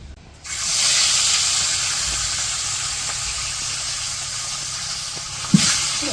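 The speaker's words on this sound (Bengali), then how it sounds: "মাছ ভাজবো কড়াইয়ে তেল দিয়ে দিতেছে" Fish coated with turmeric, chili powder and salt hits hot oil in a wok in a village kitchen, setting off a sudden, loud, steady sizzle that continues close up and unbroken.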